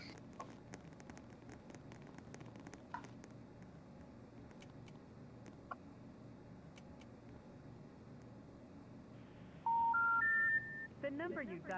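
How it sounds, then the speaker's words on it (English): Telephone number dialed on a phone keypad, a quick run of four or five rising DTMF tones near the end, loud against a dim background hum after a stretch of near-silence. "The number you dialed is not in service."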